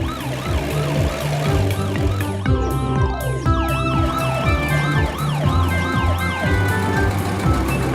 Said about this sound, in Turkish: Bakın ambulans ne kadar hızlı gidiyor.